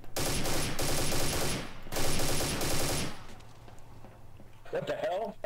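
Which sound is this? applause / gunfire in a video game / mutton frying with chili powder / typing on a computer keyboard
gunfire in a video game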